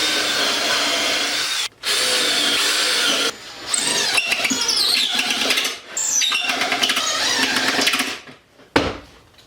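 Power drill driving screws into a wooden drawer, loud whirring bursts of a few seconds each separated by brief pauses, with the pitch shifting as each screw seats, heard close and alone.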